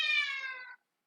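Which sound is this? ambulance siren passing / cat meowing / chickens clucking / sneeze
cat meowing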